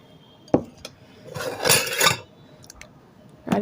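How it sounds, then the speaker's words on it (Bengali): A utensil scrapes and clinks against a pot while grated coconut is stirred into rice pudding (payesh): a sharp knock, then a longer rasping stir and a few light taps, close and alone. "নারকেলগুলো দিয়ে খুব ভালোভাবে নেড়ে চেড়ে নিচ্ছি"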